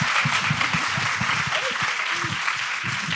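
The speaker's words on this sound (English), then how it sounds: "let's give them a round of applause" A crowd applauds steadily at a breakfast meetup, dense clapping filling the room for a few seconds, with a faint murmur of voices underneath.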